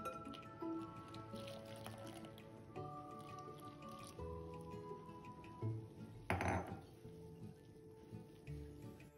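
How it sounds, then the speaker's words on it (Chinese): Coconut water poured into flour and stirred in, heard as soft wet drips and squishy mixing sounds, quiet and close, with a louder splashy moment partway through. "接下来加入200克椰子水，"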